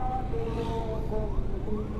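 An ambulance siren wails and sweeps in pitch during a road escort, steady and fairly loud over rumbling traffic and engine noise.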